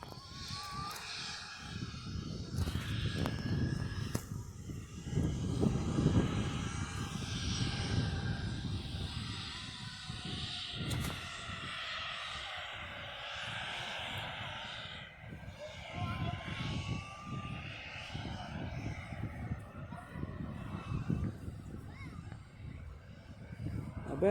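A fixed-wing airplane passes overhead under stormy skies, its engine drone a broad, steady rumble lasting throughout, with people talking over it at times.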